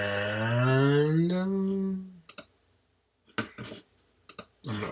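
Computer mouse clicks, a few sharp isolated clicks in quick pairs following a long drawn-out sliding tone at the start.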